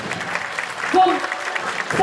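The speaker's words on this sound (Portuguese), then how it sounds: "Aplaudamos a nossa comissão de frente" A crowd applauds a parade's front committee at a Seventh of September civic parade in Mantena, steady clapping throughout, with an amplified voice speaking over it.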